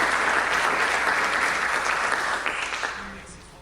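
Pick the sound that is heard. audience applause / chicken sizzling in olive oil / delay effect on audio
audience applause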